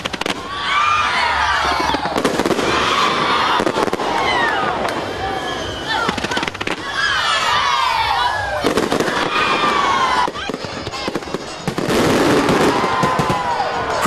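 Fireworks display at a Singatoka Town party, with rapid overlapping bangs, crackles and whistling rockets in several loud bursts, while a crowd cheers and shouts throughout.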